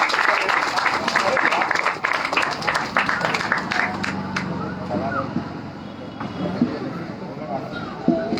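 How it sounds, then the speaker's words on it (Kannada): An audience claps loudly before a dance performance dedicated at a stage event, dense applause filling the first few seconds and then thinning into scattered claps under crowd noise. "ಜೋರಾದ ಚಪ್ಪಾಳೆ ಅವರಿಗೆ"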